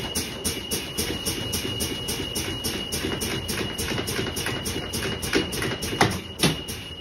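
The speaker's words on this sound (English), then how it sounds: "My parking brake has engaged, so I know that all of my air brake systems are functioning correctly." A bus air brake system bleeding pressure until the parking brake engages: a rapid, regular pulsing hiss with a steady high whine, ending in a couple of louder sharp air bursts near the end, close and moderately loud.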